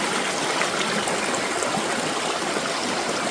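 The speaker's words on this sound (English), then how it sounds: "This is one of the creeks here, one of the smaller ones. But as you can hear, it's flowing pretty good." A small creek flows steadily at night, a continuous broadband rush of running water that stays even and fairly close throughout, with no voices over it.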